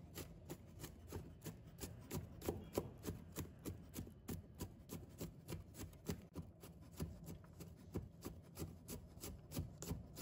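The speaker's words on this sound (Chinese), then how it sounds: "准备一把大蒜，先给它切蒜片。 再给它切碎一点。" A knife chops garlic cloves on a cutting board, first slicing and then mincing, with quick, steady, evenly spaced close taps that continue rhythmically throughout and no talking.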